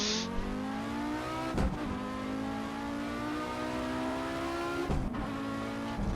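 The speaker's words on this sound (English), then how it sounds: "Successfully downshifting to slow us down as we approach the tree line yet again." An Audi Sport Quattro S1 engine in a Pikes Peak racing sim video game drones at steady revs, with two abrupt downshift blips that jolt the pitch, loud and continuous throughout.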